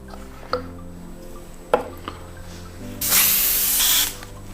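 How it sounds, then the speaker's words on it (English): An airbrush sprays cleaner through its cup during cleaning: a couple of small clicks and knocks, then a loud, steady hiss of spray lasting about a second before stopping abruptly, with no talk. "I will drop a bit of cleaner inside the airbrush."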